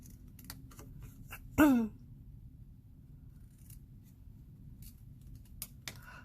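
A single crisp snip of scissors cutting through paper or card by hand, brief and close, followed by quiet with a few faint clicks.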